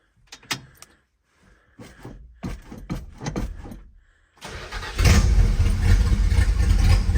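An old V8 car engine in a shop cranks in several short bursts with clicks and rattles, then catches and settles into a loud, steady rumbling idle close by.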